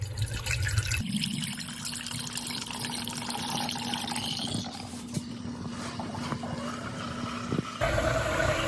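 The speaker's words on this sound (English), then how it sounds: "you can hear that pump whirling and fluid being pushed through." The electric coolant pump of a BMW 328i F30 runs steadily, pushing coolant through the system with a continuous whirring hum and watery gurgling and trickling, heard up close.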